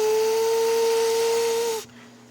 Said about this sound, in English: Gordon was getting ready to head back to Knapford for the party when he heard a whistle